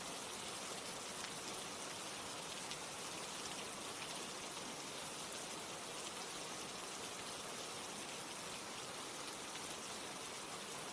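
Steady rain falls without pause, a soft even hiss of drops spreading across the whole stretch at a low, distant level, with no voices or other sounds.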